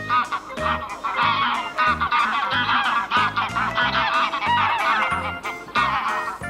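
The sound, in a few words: goose honking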